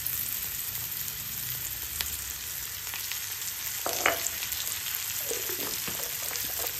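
Spices frying in ghee added to hot oil give a steady close sizzle with light stirring and a few scrapes and clinks of a utensil against the pan, with no talking.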